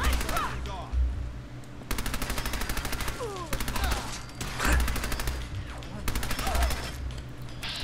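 Rapid bursts of Thompson submachine gun fire in Fallout 4, loud and close, with short automatic volleys separated by brief pauses and punctuated by low thumps.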